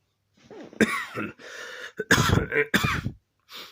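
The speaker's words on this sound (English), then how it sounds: "Sorry about that, I got a bit of a cough." A person coughs and clears their throat several times in a rough, phlegmy burst, close and loud, with short pauses between.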